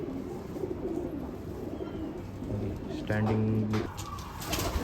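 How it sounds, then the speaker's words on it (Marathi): Shaura pigeons coo softly in a bird loft, a low repeated cooing rising briefly louder near the end over steady background noise, with someone talking close by. "शौरा कबूतर."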